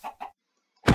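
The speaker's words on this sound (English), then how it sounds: "Chicken, come here." Minecraft chicken clucking in the video game, two short clucks close together, then a pause and a louder burst of squawk at the end, heard alone without talk.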